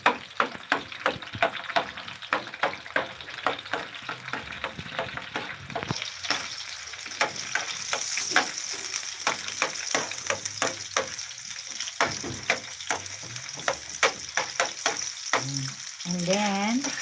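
Chopped onion sautéing in a pan for a spicy jackfruit-in-coconut-milk dish, a steady close sizzle with repeated sharp scraping and stirring clicks throughout, ending with brief clattering.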